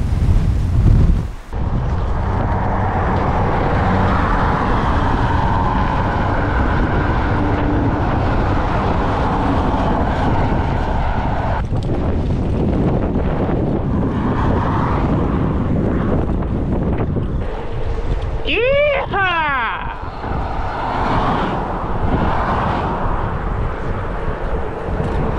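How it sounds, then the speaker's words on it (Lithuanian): Strong wind buffets the microphone in a loud, continuous roar with gusty swells, near the Cook Strait on New Zealand's North Island, and a brief whistling tone rises partway through. "Ką reiškia vėjas."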